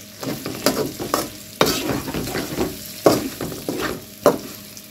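Bitter gourd fry sizzles in a pan while a spoon stirs it in quick, repeated scraping strokes over a constant crackle of frying, close and clear.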